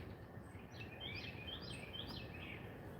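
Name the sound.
birds singing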